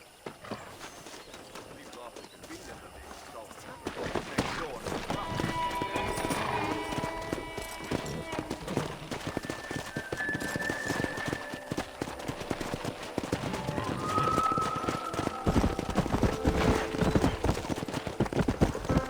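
Horse hooves clip-clop rapidly in a steady galloping rhythm in Red Dead Redemption, mixed with game ambience and occasional whinnies, continuing throughout at moderate loudness.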